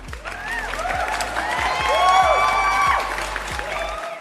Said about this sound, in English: we got to get some claps going on here